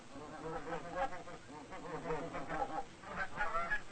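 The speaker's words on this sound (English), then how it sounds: "his wife feeds the ducks and the chickens" A noisy flock of farm ducks and chickens quack, cluck and honk continuously at moderate distance on a village farm in Germany.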